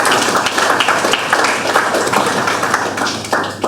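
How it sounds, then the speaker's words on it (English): Audience applause after a talk on Islamic banking, a steady wash of many hands clapping that fills the room and carries on evenly for several seconds. "So, thank you sir, a round of applause."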